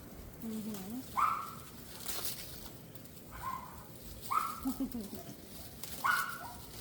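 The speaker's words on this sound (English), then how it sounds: "You hear our puppies in the background." Puppies yip and whimper in a string of short, high cries, a little distant, with faint voices murmuring underneath.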